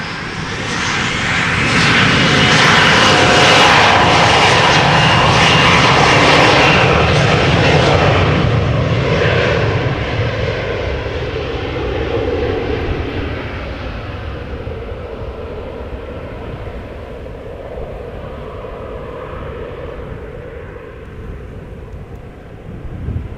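An Embraer 175 jet takes off at Amsterdam Schiphol, a loud roaring engine rush that peaks early and slowly fades as the aircraft climbs away into the distance.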